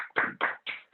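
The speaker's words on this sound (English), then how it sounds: "y'all clap for that" An audience claps after a talk on success, a few separate bursts of hand claps at a steady rhythm, fairly close and moderately loud.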